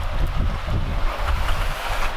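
On a sailboat during a night passage in the Adriatic, wind buffets loudly with rushing sea water and a low rolling wash of swells beneath it, continuous and close.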